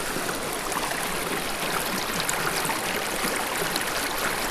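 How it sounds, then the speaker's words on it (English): A small stream rushes steadily at close range, a dense, constant wash of flowing water with no letup and no voices. "That's a pretty little current."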